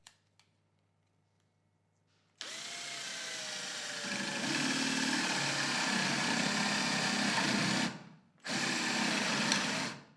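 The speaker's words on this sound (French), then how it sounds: "Maintenant, on peut percer avec une mèche plate." Drilling into wood with a flat spade bit for a towel rack: after a quiet start, a power drill spins up and grinds steadily and fairly loudly, stops briefly near the end, then resumes.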